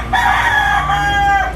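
A rooster gives one loud, close cock-a-doodle-doo crow lasting over a second, heard clearly with no talking.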